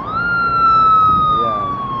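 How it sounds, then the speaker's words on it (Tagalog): An ambulance siren on a highway beside roadside bougainvillea gardens: a loud, steady wailing tone that holds high and slides slowly lower as the vehicle passes close by, heard over traffic rumble. "Kita marinig na rin yung mga ambulansya dito."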